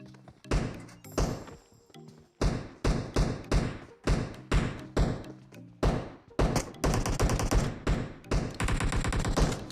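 Gunfire in a military-base shooter video game as a player fires on an enemy: sharp, punchy shots in single bursts and quick rapid runs, loud and close with brief gaps between volleys.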